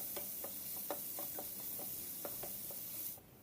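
Cut ripe plantain sautés in ghee in a pan, a soft frying hiss with scattered light clicks of stirring, quiet and close throughout.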